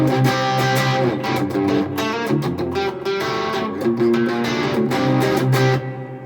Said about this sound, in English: Let's try a little bit of reverb.